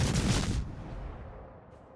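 Naval guns of the battleship Edinburgh fire in a naval combat video game, one loud boom that cuts off and leaves a fading rumble.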